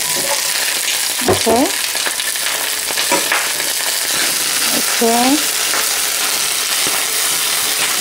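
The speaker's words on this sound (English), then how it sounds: "So I have here my olive oil, and I'm gonna be adding the broccoli." Broccoli frying in hot olive oil in a pan gives a loud, continuous sizzle and crackle up close, while a voice speaks briefly a couple of times over it.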